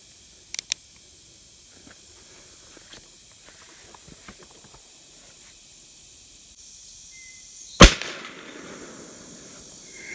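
A weak shot from an 1858 black powder pistol: one sharp, loud crack stands alone over a quiet background with steady insect-like hiss, and two smaller clicks come earlier.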